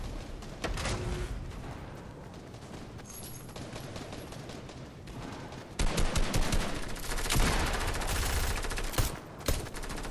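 Pistol shots in a zombies video game, quick repeated firing that becomes a heavier, denser barrage midway, loud and close with no talking.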